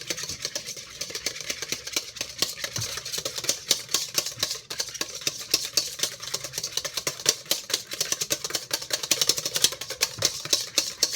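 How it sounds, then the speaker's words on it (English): Ingredients for a spicy slaw mix being stirred in a bowl, giving a steady run of quick clicking, scraping taps that repeat throughout at close range with no talking. "Mix it around."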